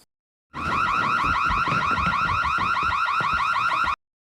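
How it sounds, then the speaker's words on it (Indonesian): A smoke alarm blares continuously with a rapid warbling pulse for about three and a half seconds, then cuts off abruptly. "alarm asap pun berbunyi"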